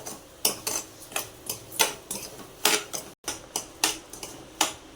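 A spoon scrapes and clinks against a new metal kadhai while sheera with sugar is stirred, sharp metallic strikes repeating every half second or so, close and clear, without speech.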